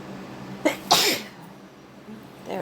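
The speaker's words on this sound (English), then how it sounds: "I'm about to sneeze." One person sneezes sharply and close, a short intake followed by a loud burst, then quiet room tone.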